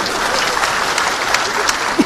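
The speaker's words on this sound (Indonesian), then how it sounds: "tepuk tangan untuk Pak Rahmat Gobel" A large crowd applauds Rahmat Gobel at the PKB 26th anniversary and national working meeting, a thick, continuous roar of clapping heard close and loud, with faint voices underneath.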